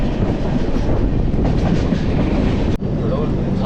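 The Chennai Mail train rolls along the rails with a loud, continuous rumble and a rattle of wheels, briefly dipping near the end before the roar resumes.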